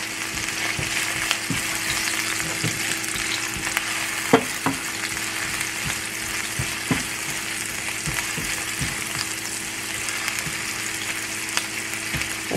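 Onion and two garlic cloves frying in a pan, a continuous bright sizzle with occasional scraping stir clicks, loud and close for the whole stretch, no voices.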